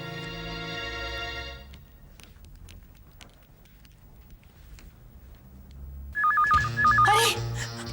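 A telephone rings in a domestic scene, an electronic ringtone trilling in bursts near the end, loud and close after a quieter stretch of background sound.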